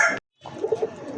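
A pair of yellow-eyed Bombay pigeons coo softly and nearby in a few low, rounded pulses, following a brief silence.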